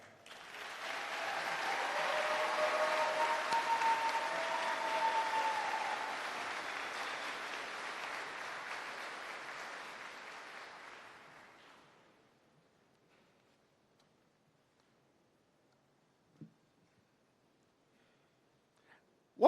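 Graduation ceremony audience in a school hall applauds loudly and steadily for about ten seconds, the dense clapping then fading out into near silence broken by a couple of small knocks.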